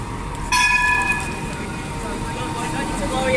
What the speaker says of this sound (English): So here's our tram, 204, a 200 class, as I said.